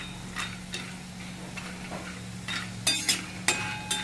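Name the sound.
sandge (dried dumplings) frying in a little oil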